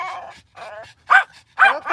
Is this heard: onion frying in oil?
no